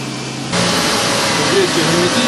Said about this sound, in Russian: заведем двигатель, проверим его на герметичность